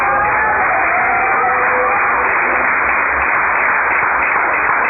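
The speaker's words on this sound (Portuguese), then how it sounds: "Quem bate palmas?" A church congregation clapping, a dense, steady wash of hands from a large group, loud and continuous throughout, with no talk over it.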